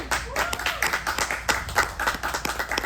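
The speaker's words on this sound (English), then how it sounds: "Give them a round of applause." An audience at a Black women founders in cannabis event applauds, a dense sustained burst of clapping from many hands, fairly close, with faint voices mixed in.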